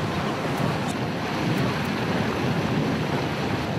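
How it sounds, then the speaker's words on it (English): A wave made by hunting orcas washes across an iceberg at sea, heard as a continuous rushing surge of water with wind buffeting, fairly loud and steady. "they're creating a wave, and that wave helps to wash the iceberg apart"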